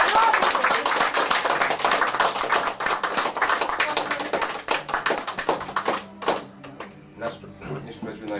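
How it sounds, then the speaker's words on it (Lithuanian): Applause from the audience at a museum opening in Veisiejai, a dense run of clapping that thins out toward the end into scattered separate claps. "prieš tai nuoširdžiausi plojimai tau"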